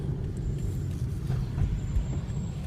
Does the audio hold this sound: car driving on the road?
yes